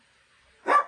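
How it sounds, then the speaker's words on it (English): A single short dog bark near the end after near silence, fairly close and clear. "Sorry for the barking of the dogs."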